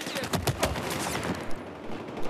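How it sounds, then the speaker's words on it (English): Gunfire in Battlefield 4: several sharp shots and short bursts in the first second and a half, then a few faint isolated cracks, with the battle noise sitting at moderate distance. "Oh, someone's shooting at me, I think."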